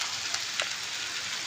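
Jackfruit frying with onions in hot oil in a wok makes a steady, moderate sizzle with a few faint pops and scrapes, close by and with no voices.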